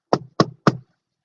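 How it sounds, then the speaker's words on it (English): Three firm knocks on a door, evenly spaced and close, each a short hollow thud, with silence after. "when they heard a knock"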